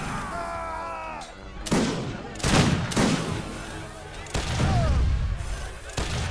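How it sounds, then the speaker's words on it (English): Grenadiers fight in a battle in Age of Empires 3: Wars of Liberty, with repeated sharp volleys of gunfire and heavy booming impacts arriving in irregular bursts across a noisy game battlefield. "Poor Sogdo, his villagers are getting creamed over there by his grenadiers"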